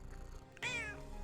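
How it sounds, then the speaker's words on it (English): A cat meows once indoors, a clear, fairly close drawn-out call rising out of a low room hum and then fading. "I hear the cat. Oh, hello! Another visit from the kitty cat."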